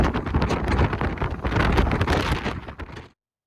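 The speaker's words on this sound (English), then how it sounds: "I've reduced the wind noise on this video because it was so loud that it completely overpowered everything" Strong wind buffeting the microphone while cycling near Stanage Plantation, a loud continuous roar with gusty surges that cuts off abruptly.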